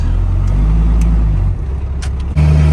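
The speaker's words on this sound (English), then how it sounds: "I'm driving his big diesel truck." Deep, steady engine rumble from a big diesel truck being driven, with a loud low drone that dips briefly and then picks back up, heard close from inside the cab with no talking.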